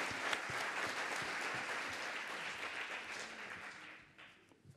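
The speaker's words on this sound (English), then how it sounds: "Give her a round of applause." Audience applause at a Women's Forum 2022 session on skills and education, a steady, moderately distant round of clapping that slowly fades out toward the end, with no speech over it.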